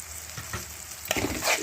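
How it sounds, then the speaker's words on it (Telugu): Garlic and spices frying in oil for a spicy garlic chutney, a soft steady sizzle with brief stirring scrapes and a louder crackling burst near the end, no voices. "వెల్లుల్లిపాయలు కూడా బాగా వేగుతున్నాయి"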